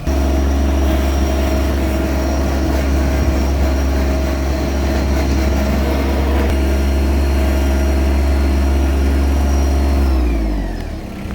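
A small utility tractor's engine runs steadily during gravel work for a parking area, a loud, close, even drone with a low rumble that holds for about ten seconds before the engine shuts off and winds down.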